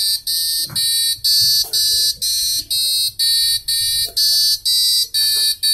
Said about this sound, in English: The alarm is continuous.